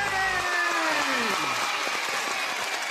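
A children's audience at a television studio show cheers and claps, with high voices sliding downward at the start before settling into a steady wash of clapping and noise.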